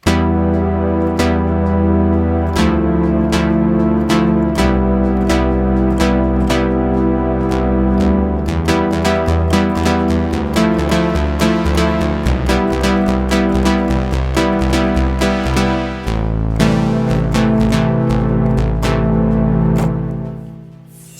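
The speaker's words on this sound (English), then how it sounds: "analog warm, I really like that sound. This is cool for some pad" A Sylenth1 software synthesizer plays its analog warm pad preset: loud, sustained chords with changing harmonies and bright plucked accents over a full low end, fading out at the end.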